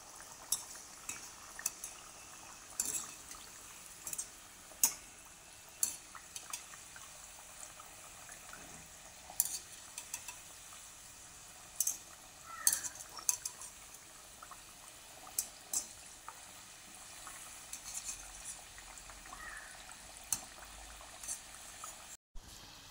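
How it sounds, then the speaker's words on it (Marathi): Round semolina and flour biscuits frying in hot oil, with a soft continuous bubbling and sizzle broken by frequent sharp clicks and taps of a utensil against the pan, fairly close and quiet. "गोल बिस्किट लगेच आपण याच्यात तळून घेऊया।"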